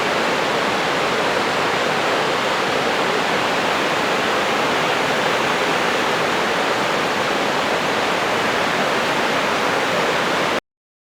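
Mandakini river rushing through the Himalayas between Chandrapuri and Agastyamuni, a steady broadband roar of fast-flowing water, loud and unbroken throughout with no voices.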